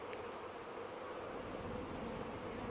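A faint, even hum of honeybees swarming over a hive frame and crawling around a beekeeper's hands, steady and close, with a couple of brief ticks.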